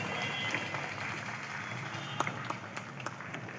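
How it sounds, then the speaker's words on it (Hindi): A crowd at a Hindu community gathering in India claps after a welcome with garlands, steady moderate applause from a hall with a few sharper claps standing out near the end. "एक बार जी दो जोरदार तालियां"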